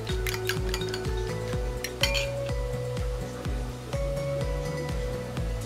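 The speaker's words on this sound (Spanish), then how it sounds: "vamos a batir con un tenedor" A fork whisks vinaigrette in a bowl, the olive-oil dressing for a tropical salad, giving a fast, steady run of light metallic clinks against the bowl over a constant background hum.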